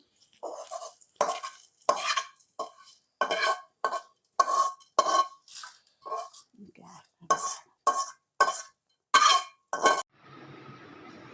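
Ingredients stir-fried until golden in a wok-style pan, a metal spoon scraping and clinking against the pan in steady repeated strokes, close and fairly loud, with no talking.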